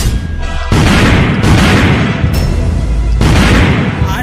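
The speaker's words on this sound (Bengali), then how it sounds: "আমাদের বর্ডারের জায়গায় জায়গায় বোম ব্লাস্ট হচ্ছে" Bomb blasts at a border, heavy booming explosions rumbling back to back in loud, dense bursts that nearly fill the sound, with a voice faintly underneath.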